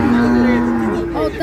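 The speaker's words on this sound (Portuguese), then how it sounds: "Olha o tanto de gado aí." Cattle at a livestock fair in Conceição, Paraíba, one loud close moo drawn out for about a second, followed by fainter lowing and crowd murmur in the background.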